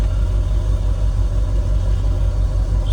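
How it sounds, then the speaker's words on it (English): A car engine idles steadily throughout, a constant low rumble close by with no talk, running while its battery voltage is being tested. "start the car, and next time you see us will be car running"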